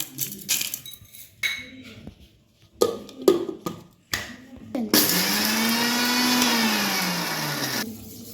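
An electric mixer grinder grinds onion, garlic, ginger, dried chilli and salt for dosa, starting with scattered clinks and short pulses, then roaring loudly and continuously for about three seconds before cutting off.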